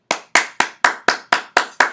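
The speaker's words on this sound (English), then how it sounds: "a D-Life round of applause to all of my new crew members" Eight crisp hand claps at a steady even rhythm, close and fairly loud, each sharp and cleanly separated with no other sound.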